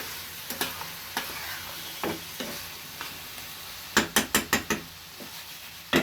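Chewa fish and potatoes frying in a spiced masala, with a steady low sizzle broken by a run of sharp spatula scrapes and knocks against the pan, several in quick succession near the end.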